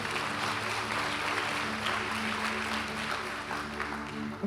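A church congregation applauds in a sustained, even wash of clapping that fills the whole stretch without letting up.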